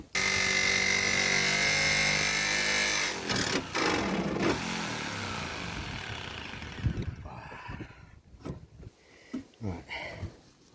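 A jigsaw cutting holes in a van roof for a Maxxfan, with a loud sustained buzzing rasp for several seconds that then breaks into short bursts and knocks.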